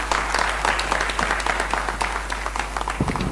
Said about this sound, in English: A huge round of applause for ma'am.